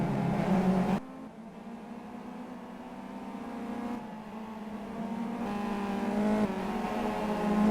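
Race cars on the Laguna Seca circuit in the Simraceway racing game: a steady engine drone rises and falls in pitch as the cars shift gears and accelerate, with abrupt changes in the engine note every few seconds.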